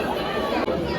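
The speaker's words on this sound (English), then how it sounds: "I think you're hearing the crowd now. The crowd is a lot." Large crowd of people shouting and chattering, a dense, loud, continuous babble of many voices close by.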